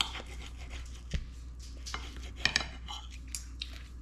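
Cutlery scrapes and clicks against a plate while a tender pork steak is cut, a few faint taps and a couple of sharper clinks at close range over a quiet room hum.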